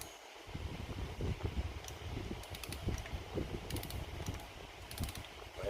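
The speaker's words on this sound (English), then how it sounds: "Got the torque wrench set for 50 foot-pounds." A ratcheting torque wrench tightens cylinder head bolts on a 1970 Dodge Charger 318 V8 during a rebuild, giving faint, quick metallic clicking bursts repeated at intervals over a low background hum.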